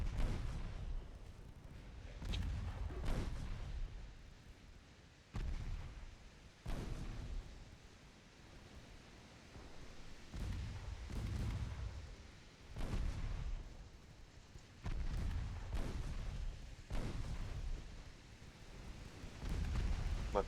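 Naval guns, including 2-inch guns, fire repeatedly in a Royal Navy battle for Hong Kong in Ultimate Admiral: Dreadnoughts, producing a dozen or so deep booming blasts spaced a second or two apart, each with a low rumbling tail.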